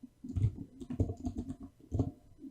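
Steady typing of code on a computer keyboard, keys struck in quick irregular bursts with small pauses, close and clear with no voices.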